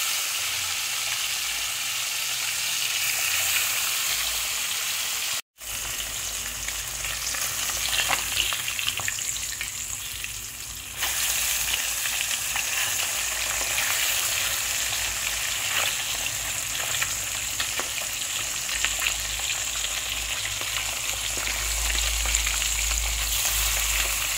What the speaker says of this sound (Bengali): কড়াইতে তেল গরম হয়ে গেছে। এবার মাছগুলো এর মধ্যে দিয়ে দেবো।